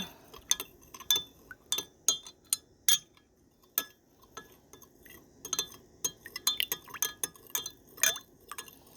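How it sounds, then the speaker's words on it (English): A spoon stirs vitamin E into a comfrey and St. John's wort balm mixture in a glass container, producing repeated close, bright clinks and taps of metal on glass in an uneven rhythm, with no talk. "we're going to stir that and get that dissolved in there"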